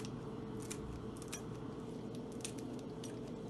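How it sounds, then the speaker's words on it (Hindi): Green chillies finely cut with scissors, producing quick, faint snips at a steady rhythm over a low background hum, without any talking. "ये हरी मिर्चें हैं, इनको हम बारीक बारीक काट के डालेंगे।"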